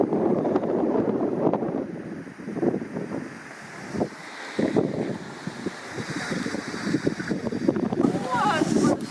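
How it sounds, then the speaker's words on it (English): Strong gusts buffet the microphone with heavy low rumbling on a wagyu beef farm beside rice paddies, mixed with a person talking underneath. "Sorry the wind, it's really windy today."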